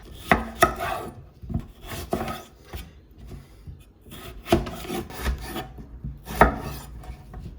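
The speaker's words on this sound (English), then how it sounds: "We've got our potatoes cut up." A knife chops potatoes into chips on a board, sharp irregular cuts and thuds close up with scraping between them, no voices.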